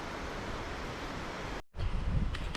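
Strong wind gusting near Vance Creek Bridge, a dense steady roar buffeting the microphone, dropping out for a moment before surging back loud and rumbling.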